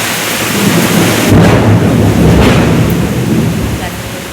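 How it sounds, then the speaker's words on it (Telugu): Heavy rain pours in a dense, loud roar while thunder rumbles low and long beneath it, a close and constant downpour with no pauses. "చూడండి ఎంత వర్షం పడుతుందో"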